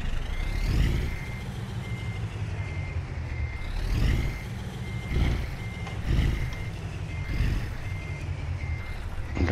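Reversing alarm on a truck in Euro Truck Simulator 2 with ProMods, steady repeated beeps over a loud diesel engine rumble, with a few hiss bursts like air brakes.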